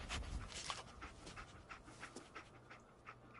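Dogmeat, the dog companion in Fallout 4, pants in quick rhythmic breaths over a low game background, close and fairly quiet.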